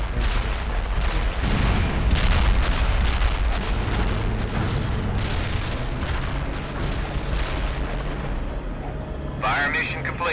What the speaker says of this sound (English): Cluster bomb hit nothing but dirt.